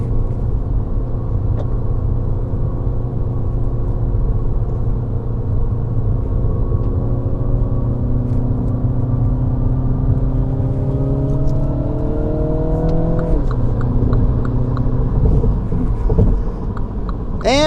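A 2020 MINI Cooper S with a 7-speed dual-clutch transmission drives along with a loud, steady engine drone and road rumble, its pitch climbing under acceleration before dropping sharply at a gear change.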